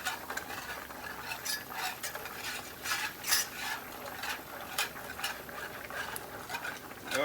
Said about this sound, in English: The more you scrape and whisk the bottom of the pan, the easier it'll pop up and season your flour.